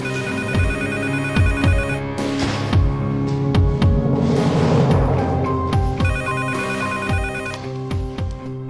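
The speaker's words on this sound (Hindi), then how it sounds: "जल्दी उठाओ फोन" A telephone ringtone plays a loud, repeating electronic melody with chiming tones and a steady rhythmic beat, sounding continuously in an indoor scene from a dubbed drama.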